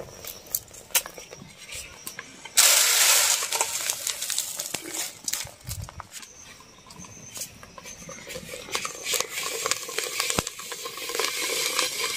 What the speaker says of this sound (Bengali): এই কয়টা এখন বেজে নেব। হয়ে গেছে মুড়ি ভাজা।